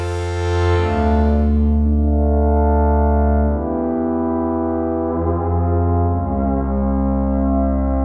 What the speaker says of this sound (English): Let's change the cutoff frequency.